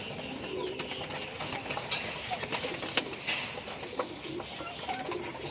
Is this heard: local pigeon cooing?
yes